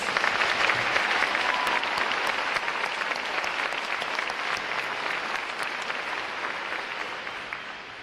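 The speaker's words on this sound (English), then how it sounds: "Let's give another round of applause for the outstanding award winners" A large crowd at a Navy recruit training graduation ceremony claps for the outstanding award winners, dense steady applause ringing out continuously and easing slightly toward the end.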